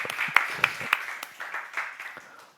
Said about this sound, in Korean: 이미 확정 짓는 걸로 박수를 한번 주시죠